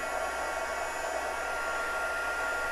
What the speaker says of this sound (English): I'm just going to hold this and turn on my heat gun once again